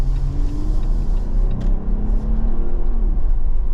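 A 2023 Jeep Wrangler High Tide with a 3.6-liter naturally aspirated V6 and an 8-speed automatic drones steadily. The low engine rumble is heard from inside the cabin, with a slight rise in pitch as it pulls.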